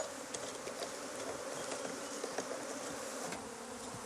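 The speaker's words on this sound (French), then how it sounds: "il suffit de mettre des abeilles et du sucre glace dans un bocal." Honeybees buzz inside a jar with powdered sugar during a Varroa mite count, a faint, continuous droning hum with small flickers of wingbeat, heard close with no talking.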